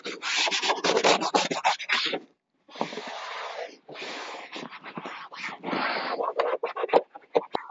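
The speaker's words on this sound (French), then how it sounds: "Comme c'est du plastique dur, je propose une brosse dure." Hard plastic car boot trim in a very dirty Kangoo being scrubbed with a stiff brush, close loud bristly rasping in bursts with a few short pauses and no talking.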